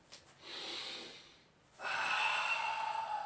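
Long, steady breaths pushed out during a guided breathing exercise, one sustained airy exhalation followed by a brief pause and a second, louder prolonged breath, close and alone with no talk.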